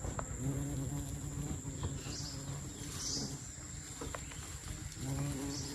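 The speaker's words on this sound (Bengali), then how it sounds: "খলসি ফুল থেকে এই যে মধু কালেক্ট করছে পোকায়।" Insects buzzing steadily while gathering nectar from Kholshi flowers in the Sundarbans forest, a continuous close hum with faint bird calls in the background.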